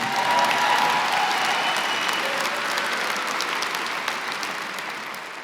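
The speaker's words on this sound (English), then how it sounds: "Give a big round of applause for these guys" A crowd at a university commencement ceremony applauds steadily, dense clapping that slowly fades toward the end.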